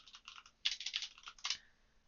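Quick, light keystrokes tapped on a computer keyboard, a brief burst of a dozen or so clicks in uneven rhythm, close and fairly quiet with no one speaking.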